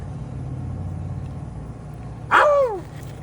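A single dog bark rings out once, short and fairly close, over a low steady rumble of background noise at an outdoor spot where a snake is being caught from a well.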